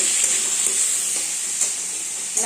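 Vegetable stems, potato and tomato sizzle steadily in a hot pan, a bright hissing crackle with a few soft stirring scrapes, close and continuous.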